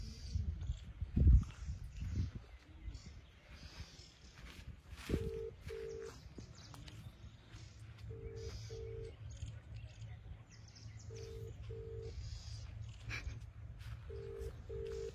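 A mobile phone call is placed in a quiet village, with a ringback tone sounding in repeated paired bursts at regular intervals over faint outdoor background noise and bird chirps.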